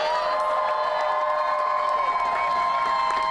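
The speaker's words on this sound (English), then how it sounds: "a round of applause for the Starbucks workers themselves" A crowd at a rally with striking Starbucks workers bursts into loud, sustained cheering and applause, with whoops and shouts layered over continuous clapping from start to finish.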